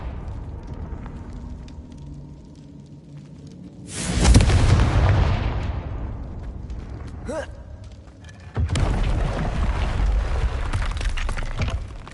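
A Confringo fire-blast spell from the Hogwarts Legacy video game bursts loudly at about four seconds, a booming crackle that slowly fades, with a second roaring blast surging in near the end over steady game ambience.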